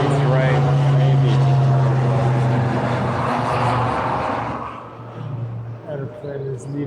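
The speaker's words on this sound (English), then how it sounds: "Airplane is leaving for a tropical island." A plane passes over Tokyo on a humid, hot day, its broad roar loud at first and then fading away, with a person's voice heard under the engine noise.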